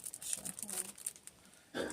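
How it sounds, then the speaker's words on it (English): A two-ply paper napkin being torn apart by hand, with soft crinkling and ripping bursts scattered through the moment, the clearest rip near the end, and light talk mixed in. "I'm going to use this napkin here, do the same thing, tear it apart"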